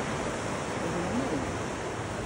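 Cascada de Fuego waterfall, a steady broadband rush of falling water filling the air evenly, with a voice briefly audible in the background.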